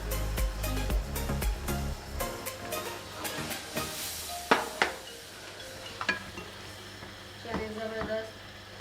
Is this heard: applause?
no